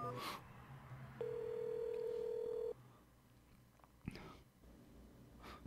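Phone dialing an emergency number in the video game Replica: short electronic keypad tones followed by a steady sustained tone, quiet with faint background sounds.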